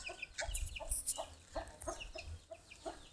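A brooding hen on a nest of eggs in a garden potted plant gives soft repeated clucks in an irregular rhythm, fairly close but quiet, with no one speaking.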